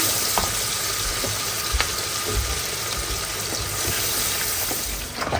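Ginger, garlic and green chili paste goes into a frying Jessore-style fish curry, giving a continuous close sizzle with light stirring clicks and scrapes scattered through it, and no speech.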